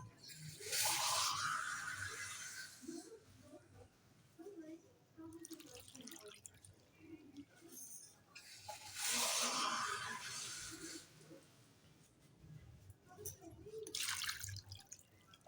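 Water poured from a cup into a cooking pot of spiced Shami kebab mixture with turmeric, three cups added in separate splashing pours, with a quiet voice speaking in between.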